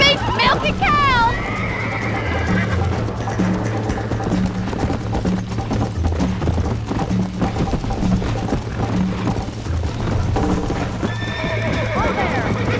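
A horse in the Red Dead Redemption video game gallops with steady rapid hoofbeats, neighing loudly at the start and again near the end, all beneath music and someone talking.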